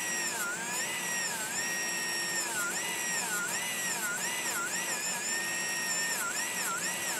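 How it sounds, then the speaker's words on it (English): Whining rotary tool with a fine-grit silicone polishing wheel buffs a hammered sterling silver ring, its high pitch rising and dipping rhythmically as the wheel presses on and eases off, steady and close. "I'll use a silicone wheel and carefully buff where I had hammered"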